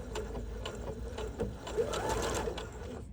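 A sewing machine stitches a bucket hat, sewing folded bias binding along the edge, running steadily in a continuous mechanical whir with a faint rhythmic clatter, close and moderately loud throughout.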